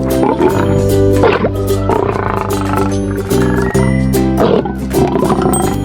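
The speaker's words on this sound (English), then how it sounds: "Lion." A lion roars several times, deep and powerful, with long rumbling growls over steady music.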